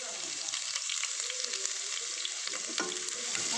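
Curry leaves, garlic and ginger sautéing in a pan for a Kerala fish mappas, giving a steady, close sizzling crackle with occasional stirring scrapes and no talking.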